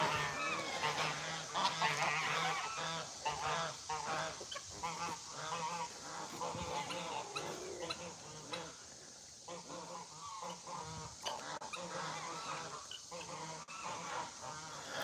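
A flock of geese at an animal sanctuary honks steadily and densely for the whole stretch, a busy chattering chorus at moderate distance with no pauses.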